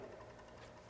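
A bicycle rear hub's ratchet freewheels at low speed while the wheel coasts and the sprocket stays still, giving a faint, rapid, buzzing run of tiny clicks.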